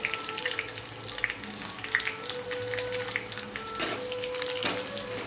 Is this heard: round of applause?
no